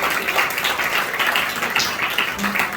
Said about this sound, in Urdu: زوردار تالیاں بجائیں خدا کے کلام کے لیے۔